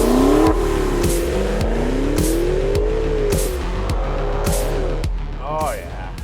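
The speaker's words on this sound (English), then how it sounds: "you have to try launch control" A Maserati Levante Trofeo SUV roars through a launch-control start, engine pitch climbing in sweeps through several quick upshifts, loud and close from inside the cabin.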